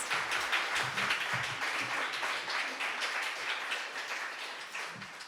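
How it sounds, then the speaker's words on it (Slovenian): An audience applauds a finalist of the Slovenian song contest Slovenska popevka 2020 at a public announcement: sustained, even clapping for several seconds, fairly close and lively. "En aplavz."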